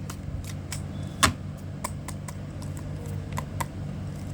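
Tarot cards are shuffled in the hands in a quiet room, giving a series of short crisp flicks and light slaps, one louder snap among them, and no voices.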